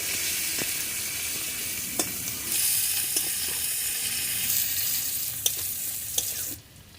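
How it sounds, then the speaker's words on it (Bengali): Sliced onions frying in hot oil in a pan, a steady close sizzle with occasional stirring clicks and scrapes, continuing without talk until it cuts off at the end. "এই পেঁয়াজ পেঁয়াজগুলো ভেজে নিচ্ছি"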